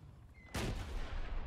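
A tank cannon fires at a helicopter in a video game: one sudden heavy blast strikes after a quiet moment, then a long rumbling roar that lingers and slowly decays.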